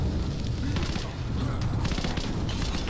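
Gunfire in the video game Rise of the Tomb Raider, a burst of loud shots and booming impacts over a dense game soundscape, with someone talking over it.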